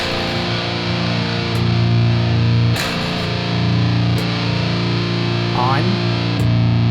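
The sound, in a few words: electric guitar chugging through Hughes & Kettner amp with Precision Drive boost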